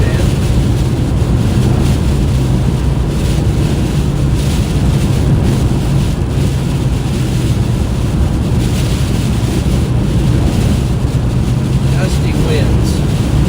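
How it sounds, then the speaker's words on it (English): Gusty wind roars without letup during a Nebraska thunderstorm. It buffets the microphone with loud, broadband rushing noise that continues throughout. "gusty winds here"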